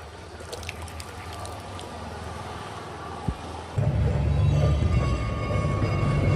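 Route 782 bus between Karainagar and Jaffna passing on a road in Jaffna, Sri Lanka: a low engine rumble that swells suddenly and stays loud and near, over faint background noise.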